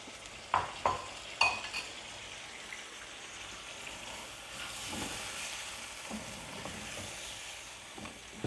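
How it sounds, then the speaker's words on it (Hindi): Chicken malai karahi being stirred with yogurt in a pot, a few distinct scraping knocks early on followed by a steady soft hiss and occasional light stirring clicks, close by with no talking. "इसको इसको अच्छी तरह से मिक्स कर लेना है।"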